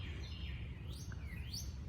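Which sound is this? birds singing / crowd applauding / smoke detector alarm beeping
birds singing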